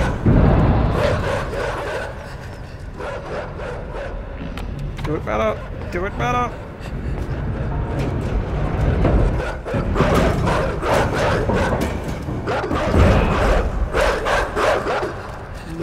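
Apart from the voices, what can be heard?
dogs barking in a video game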